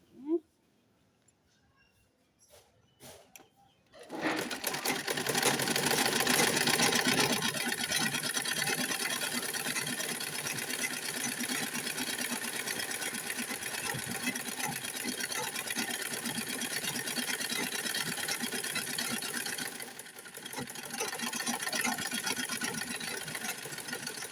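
A sewing machine stitches a kameez, whirring loud and steady after a few faint clicks at the start, with one brief pause near the end before the stitching picks up again.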